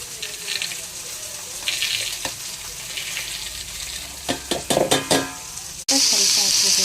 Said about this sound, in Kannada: ಶುಂಠಿ, ಬೆಳ್ಳುಳ್ಳಿ ಇದನ್ನು ಎಣ್ಣೆಗೆ ಹಾಕಿ ಫ್ರೈ ಮಾಡ್ಕೊಳ್ಳೋಣ